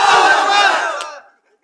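A large crowd of married men roars a single massed takbir shout at a religious sermon gathering, loud and close, sustained for about a second before cutting off into silence.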